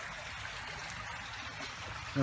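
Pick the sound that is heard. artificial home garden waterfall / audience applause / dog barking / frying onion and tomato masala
artificial home garden waterfall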